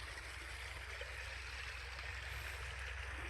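Irrigation water running steadily into a bed of a wheat field, a continuous close gurgling flow with no talk over it.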